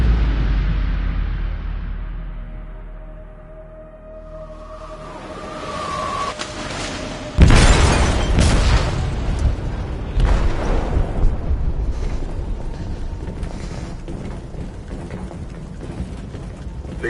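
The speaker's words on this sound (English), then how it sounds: "They detonated an explosive in the hold." An explosive detonating in a ship's hold in Detroit: Become Human, a low rumble building up to a sudden loud, deep blast followed by a long roaring, crackling aftermath.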